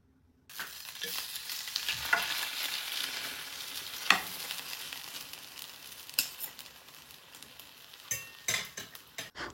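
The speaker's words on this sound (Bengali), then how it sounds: "ফ্রাইং প্যানের মাঝে ব্রেড দিলাইছি, দিয়া 2-3 মিনিট লাগে এক সাইড কুক করে লাইছি।" Egg-coated bread frying in a frying pan, a steady close sizzle with several sharp clinks and scrapes of a utensil against the pan, no talking.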